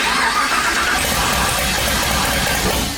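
A turbocharged car engine started and held running on the throttle, a steady, loud, broadband roar that stays even throughout with no talking over it.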